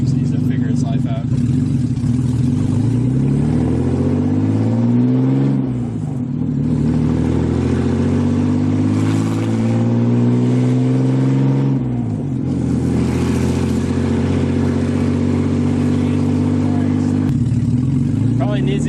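Loud, close car with a rebuilt forged BMW S52 engine and no exhaust, revving in repeated rising and falling sweeps with rough clatter between the pulls.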